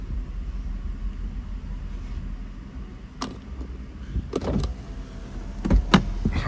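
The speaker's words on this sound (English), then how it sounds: "and then you roll up the windows" Power windows on a 2009 Mercedes-Benz CLK cabriolet with a 5.5L V8 whir upward in a few short bursts, each ending with a soft thump as the glass seals, over a low steady background rumble.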